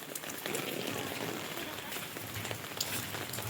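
Rain falls steadily on a street, a soft, constant hiss of drops spattering the pavement, fairly faint and unbroken throughout.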